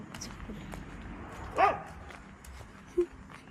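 A dog barks twice outdoors on the way to a temple, short distinct barks heard at a distance over faint street ambience and footsteps.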